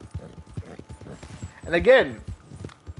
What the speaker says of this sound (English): this horse riding thing taking forever